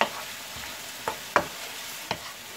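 Chicken breast and peppers fry in a pan, a low sizzle running underneath as a utensil stirs them in a few separate scrapes and taps, close by and without talk.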